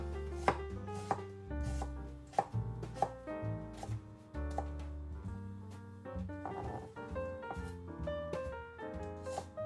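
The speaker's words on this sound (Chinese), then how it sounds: "接下来切洋葱" An onion is chopped with a knife on a cutting board into coarse pieces, a quick run of sharp rhythmic taps close and clear, with no talk.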